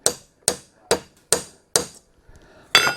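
A blacksmith's hammer taps hot iron held in a nail header, five sharp, ringing strikes at an even half-second pace, then a pause and one louder, brighter blow, close and clear with no talk.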